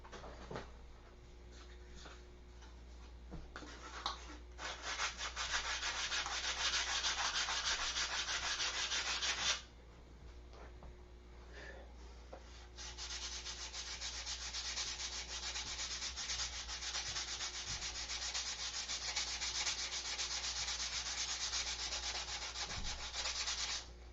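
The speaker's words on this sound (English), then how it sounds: "I need to sand that smooth." Someone hand-sands a model aircraft fuselage smooth, producing steady, close, rasping strokes that run continuously, pause briefly midway, then resume in a long, even scrubbing passage.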